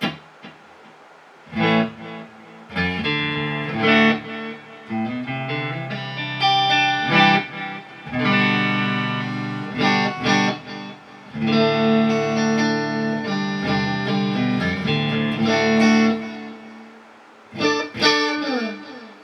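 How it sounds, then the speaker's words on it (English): An electric guitar through a mono tape delay set to quarter notes plays phrases with distorted tone, each note followed by rhythmic repeating echoes that trail off between bursts of playing. "this is a mono tape delay set to quarter note"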